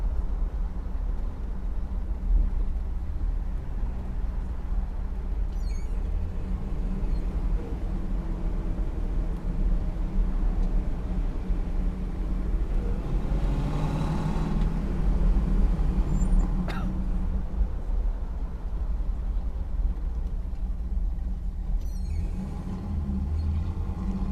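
A 1970 Pontiac Trans Am Ram Air III gives a steady, deep engine rumble while driving, with a brief swell in intensity partway through and a constant low drone underneath.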